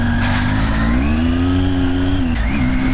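A cold motorcycle engine revs steadily and loudly up close, its tone rising and holding, then dipping briefly before climbing again, with no talk over it.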